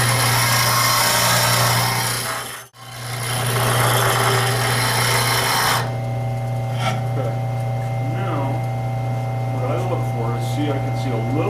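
A bench grinder hums loudly and steadily while a wood turning tool is sharpened against the wheel, the grinding noise cutting off partway through and leaving a quieter motor whine under speech.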